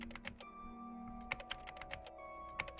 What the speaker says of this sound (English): Just tapping at the keys?